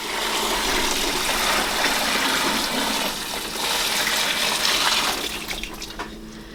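Turkey brine pours steadily into a bag in a kitchen, a continuous splashing, gurgling rush of liquid that dips briefly partway through, with no talking.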